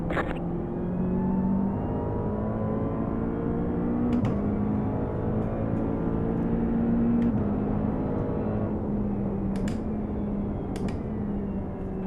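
Race cars in a racing video game drone and whine with steady engine tones that rise and fall as cars close in and pass, a continuous mechanical hum with a few sharp clicks and no talk.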